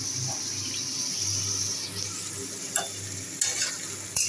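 Food fries in a generous amount of soybean oil with a steady, fairly quiet sizzle, broken by a few stirring clinks and scrapes in a home kitchen.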